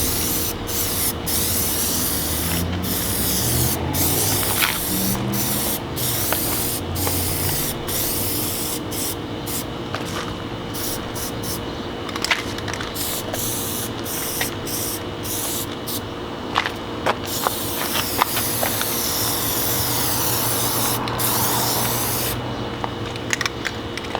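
An aerosol can sprays Plasti Dip onto a 2019 Mazda 3 GT's emblems and window trim in repeated hissing bursts, close and loud, broken by short pauses and faint rattles.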